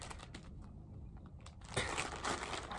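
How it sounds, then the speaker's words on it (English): Close, soft crinkling of a plastic bag holding a cross-stitch project, irregular rustles and crackles that grow denser and louder toward the end, with no talking. "Sorry for the crinkling. I think this is the only project in a plastic bag."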